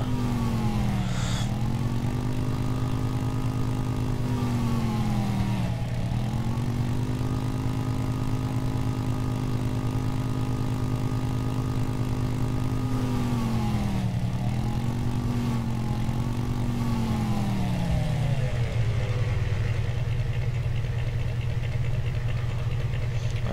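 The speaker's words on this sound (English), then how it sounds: "Bike struggling a little bit." A motorcycle engine in the video game Empyrion labors continuously, its steady drone rising and dipping in pitch as it strains, loud and close with no talk over it.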